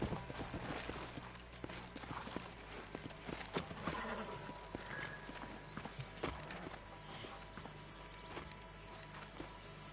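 Steady clip-clop of horse hooves walking in the video game Red Dead Redemption, with an occasional whinny, over a busy outdoor background of rustling and distant noise.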